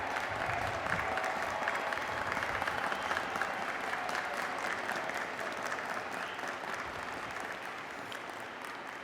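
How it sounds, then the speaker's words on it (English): At a spring nursing commencement ceremony, a large audience gives nursing graduates a sustained round of applause, dense steady clapping from a distance that holds evenly for several seconds. "please stand so we can give you another round of applause"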